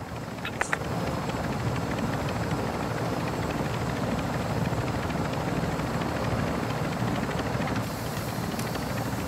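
A video game helicopter, a continuous rotor and engine drone that holds steady and fairly loud throughout, with a couple of brief clicks near the start and no voices.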